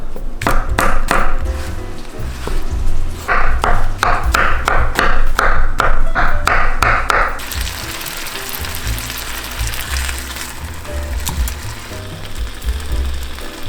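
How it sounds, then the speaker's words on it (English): A knife chops vegetables on a cutting board in quick, rhythmic taps, close and clear, then the chopping stops and a steady sizzle of salmon cooking in a pan carries on alone. "While the salmon's cooking, I'm going to go ahead and get started on chopping the veggies."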